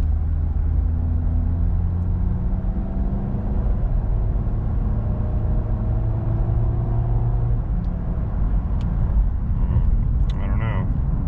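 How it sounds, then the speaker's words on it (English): A Ford F-150 with a 5.4 three-valve engine and a worn right front wheel bearing drives along, giving a constant cabin rumble with a steady low droning hum and a few faint clicks near the end. "And I'm still hearing that wheel bearing noise."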